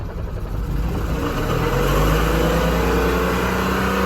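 A BMW car engine idles steadily after a gentle throttle blip, a close, continuous low rumble with no talking over it.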